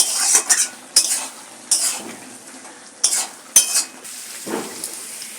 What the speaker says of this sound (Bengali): এইবারে ভালো করে নেড়ে চেড়ে নেবো